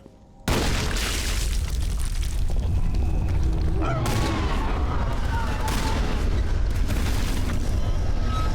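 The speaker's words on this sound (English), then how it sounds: "This place is where shotguns shine." Shotgun fire in the video game Mass Effect Legendary Edition: loud, dense gunshot booms begin abruptly after half a second and continue steadily, mixed with game combat noise, with no speech.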